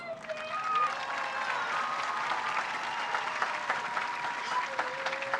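A high school graduation crowd applauds the graduating students, sustained moderately distant clapping with a few whistles and scattered cheers over the whole stretch.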